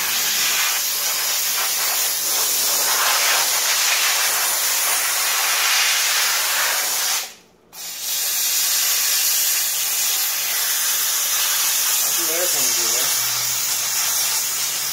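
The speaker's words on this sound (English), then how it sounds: "A little compressed air in there." Compressed air blasting through a Caterpillar intercooler during ultrasonic cleaning, a loud continuous hiss that cuts out briefly midway and then resumes, close and steady.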